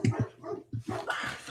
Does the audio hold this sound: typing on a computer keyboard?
no